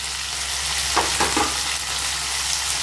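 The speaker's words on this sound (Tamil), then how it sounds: "இப்போ இந்த வெண்டைக்காய் வந்து உங்களுக்கு அந்த பிசுப்பு தன்மை போகிற வரைக்கும் கொஞ்சம் வதக்கணும்" Okra sautés in a hot pan with curry leaves in a steady sizzling hiss, with a few brief stirring scrapes in the middle and no voices.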